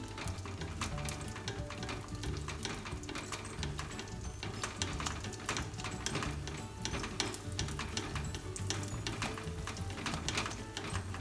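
Dense, steady sizzling of kue cucur batter frying in hot cooking oil, with crackling pops throughout and no voices.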